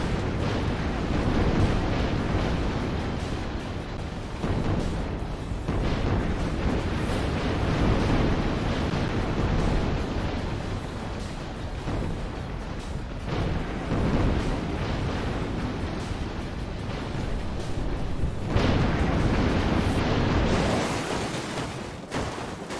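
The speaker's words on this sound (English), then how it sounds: "It just shoots a giant barrage of rockets, sort of like a mini cluster bomb" A barrage of rockets fires in the Brick Rigs video game, a dense, continuous roar of rumbling blasts that swells and dips, with a sharp burst near the end.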